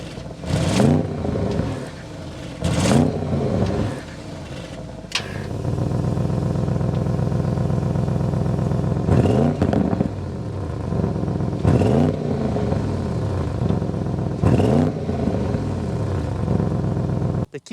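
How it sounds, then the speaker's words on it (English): A 2025 Audi RS7 Performance engine fires up with a sharp starter burst near 5 s, then settles into a loud, steady idle from close by. Several throttle blips rise and fall through the exhaust, and no one speaks. "start it up so you can hear that exhaust note."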